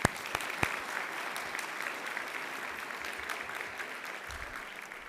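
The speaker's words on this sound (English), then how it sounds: "So just have a round of applause for that team." Graduation audience applauding in a hall, a steady dense wash of clapping from many hands that holds evenly for the whole stretch and eases off slightly at the end.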